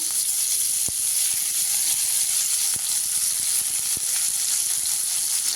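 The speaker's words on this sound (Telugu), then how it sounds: "ఇప్పుడు ఆయిల్ వేడైందండి మునగాకు వేసుకోవాలి" Drumstick leaves frying in hot oil in a kadai, giving a steady, loud, close sizzle and hiss throughout, with a few faint clicks and stirring taps and no talking.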